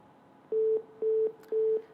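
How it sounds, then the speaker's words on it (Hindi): A phone line tone after a call drops during a news broadcast, three even electronic beeps repeating about every half second, clear and alone. "फोन डिस्कनेक्ट हो गया"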